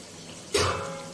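Half a bowl of water is poured into a pan of chicken seekh kebabs: a sudden loud splash and sizzle that starts mid-clip, close by, and keeps hissing steadily afterward.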